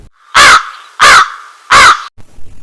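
A lazy crow in an animated Tamil children's story gives three loud, evenly spaced caws close by, each a harsh, raspy call, with a quieter rustle after them.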